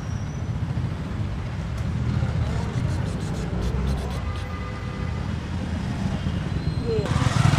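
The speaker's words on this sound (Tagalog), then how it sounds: "Sasakay muna kami ng tricycle." A motorized tricycle rides along a road with a continuous rattling engine drone, and people talk over it.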